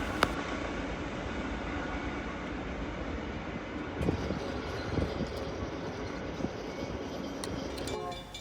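A freight train on the NS Chicago line in East Ohio rolls past close by with a continuous, loud rumble and clatter of wagons. Faint clanks and squeals rise above the steady roar throughout.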